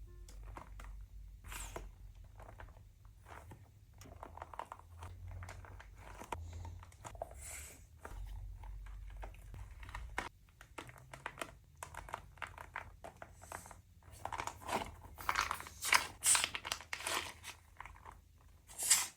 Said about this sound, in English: It's like a squishy with a layer of wax on the outside so that when you squeeze it,